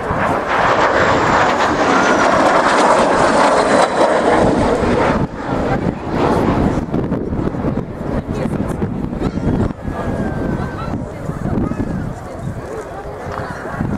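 A MiG-15 jet flies at the RAF Cosford air show, a loud, steady roar that dominates the first five seconds, then continues under heavy wind buffeting and a commentator speaking over the public address.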